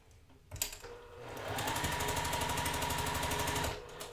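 A sewing machine stitches a quilt block seam in a close, rapid, rhythmic whir that starts after a click and holds steady for about two seconds before stopping.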